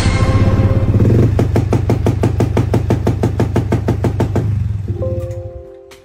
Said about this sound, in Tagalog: Ano pa naman yung motor mo, Kenji?